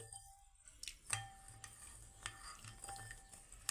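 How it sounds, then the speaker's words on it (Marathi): Milk and sugar stirred in a pot until the sugar dissolves, for a milk pudding: quiet spoon scrapes and light metallic clinks against the vessel, soft and close, with no talking. "साखर वितळेपर्यंत आपल्याला हे हलवून घ्यायचं आहे"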